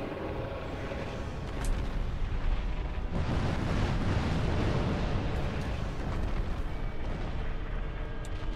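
A fiery attack rains down from a boss in Dark Souls, a continuous loud rumbling roar that swells around the midpoint and holds steady, with no voices.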